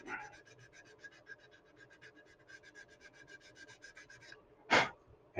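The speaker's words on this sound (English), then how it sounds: "we're going to switch over to the blue sanding stick" Quiet, close rasping strokes of a blue sanding stick on a scale model, a rapid rhythmic back-and-forth scrape, ending with a brief louder rub.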